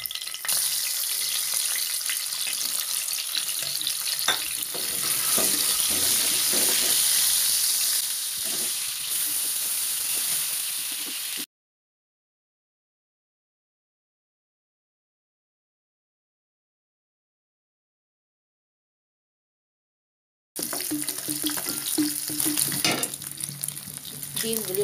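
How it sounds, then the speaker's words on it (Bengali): Beaten eggs mixed with turmeric and salt fry in a pan with a steady, loud sizzle, broken by a silent gap before the crackling frying resumes. "ডিমটারে হলুদ আর লবণ দিয়া মাখাইয়া ভাইজা লমু।"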